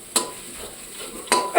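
A spoon scrapes through meat curry frying in a pan, with two quick stirring strokes over a soft steady sizzle.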